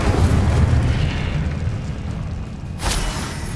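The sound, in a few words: Incendio fire spell explosion in Hogwarts Legacy video game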